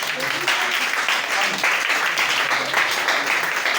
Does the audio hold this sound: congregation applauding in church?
yes